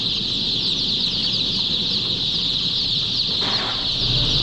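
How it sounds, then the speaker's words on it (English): Baby chicks cheep steadily in a high, continuous chorus just after being set into their new brooder, the peeping dense and close throughout with a brief rustle near the end. "Okay, now the chicks are in."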